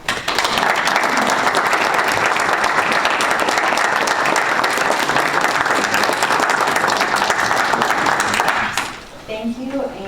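An audience at a school board meeting applauds teachers in a dense, steady wave of clapping for about nine seconds before it fades into scattered sounds.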